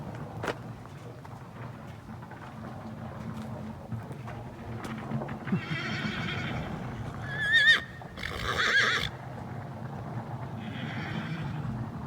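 A horse being broken in on a farm whinnies loudly several times, with clip-clop of hooves and shuffling nearby, heard from a short distance outdoors with no talk.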